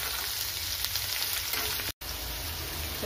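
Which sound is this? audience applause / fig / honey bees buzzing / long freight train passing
fig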